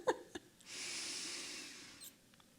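A long, steady breathy exhale during an abs and deep core exercise, preceded by a couple of quick sniffs and ending with a short breath, close and fairly soft.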